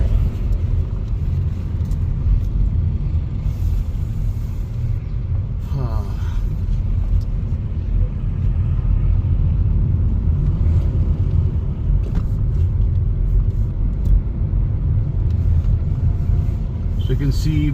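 A Skoda Kushaq 1.5 TSI driving a winding hill road between Shillong and Guwahati gives a steady, loud, low engine and road rumble heard from inside the cabin, continuous throughout with a brief rattle midway.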